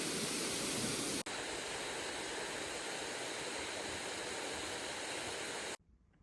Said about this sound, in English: is this a waterfall?